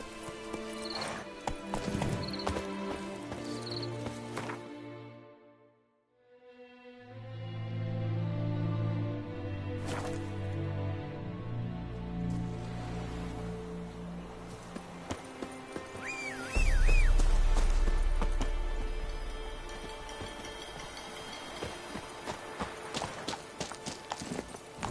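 Hooves of Geralt's horse Roach from the game The Witcher 3 clip-clop at a steady gallop throughout, with a brief dip mid-way, a whinny, and a deep rumbling swell later beneath the rhythm.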